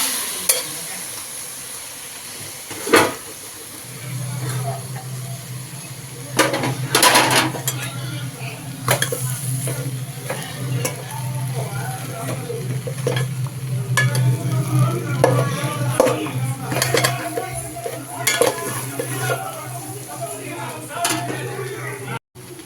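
Strained tomato water is poured into a pan of pea and potato masala, followed by sizzling, stirring and spoon scraping against the pan, with someone talking intermittently over the cooking.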